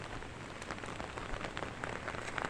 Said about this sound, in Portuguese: Chuva direto.